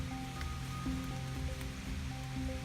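Steady rain falling through a forest around old cabin ruins, a continuous soft wash of drops on leaves and ground with no talking.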